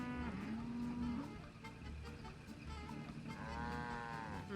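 Cows mooing angrily in the Nancy Drew game Secret of the Old Clock, two drawn-out, wavering bellows at the start and end over a low ambient rumble.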